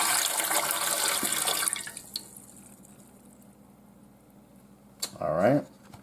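Water pours steadily into the pan of a Zojirushi BB-CEC20 bread machine for under two seconds, followed by quiet, a brief clunk, and a short burst of speech near the end.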